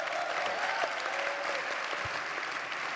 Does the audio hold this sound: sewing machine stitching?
no